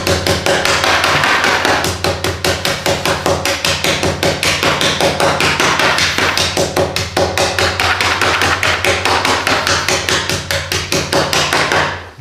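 Steady, rapid blows of a meat hammer crushing candy in a bag, a loud rhythmic tapping that continues for about twelve seconds without pause.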